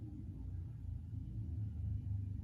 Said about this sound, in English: Sorry if you guys can hear that car.